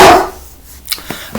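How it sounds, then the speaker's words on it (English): A dog barking loudly at passers-by, a sharp close bark at the start followed by a few quicker, fainter yips and another bark at the end. "Barking at every bloody thing that walks past."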